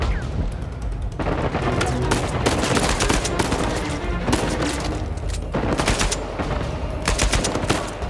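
Rapid bursts of automatic gunfire in Uncharted 4 crackle almost nonstop, loud and close, with dense volleys and only brief gaps.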